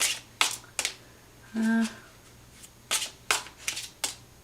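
Close-up tarot card shuffling in several quick riffling bursts with pauses between, plus a brief hum-like tone in the middle.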